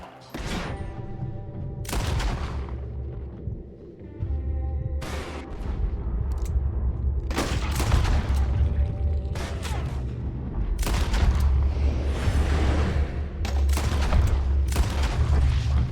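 Scattered gunfire during a Red Dead Redemption 2 fight: separate loud shots and short volleys, some booming, ring out irregularly over a rumbling low background for the full stretch.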